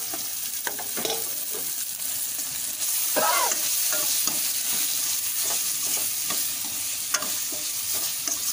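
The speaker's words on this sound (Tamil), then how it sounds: "இது நல்லா ராலு வந்து வெள்ளையா வெந்து வருங்க அது வரைக்கும் நம்ம வதக்கணும்ங்க" Prawns sauté in a pan, headed for a prawn kulumbu and fry, while a spatula stirs them. Intermittent scraping strokes break through a soft, continuous sizzle.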